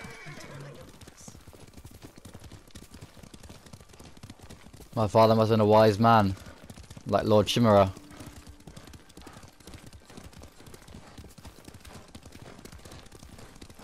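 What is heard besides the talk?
horse riding, hooves and neigh, from video game Ghost of Tsushima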